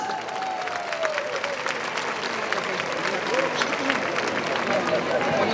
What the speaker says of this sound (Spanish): Ara sí, un aplaudiment per a tots.